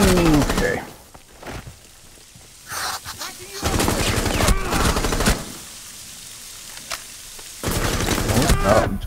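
Rainbow Six Siege gunfire in repeated loud automatic bursts, separated by brief pauses, with game ambience and a voice heard between the bursts.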